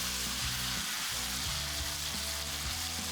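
A tomahawk steak sears in a hot oiled pan with garlic, giving a loud, steady, close sizzle and spattering hiss, with soft low knocks and scrapes as the meat is moved, and no voices.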